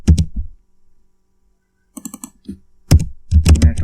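Computer keyboard typing in short bursts: a quick cluster of clicks, a pause, then several rapid runs of keystrokes, close and crisp.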